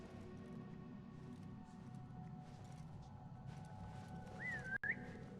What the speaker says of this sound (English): Who whistles? Whistling is illegal.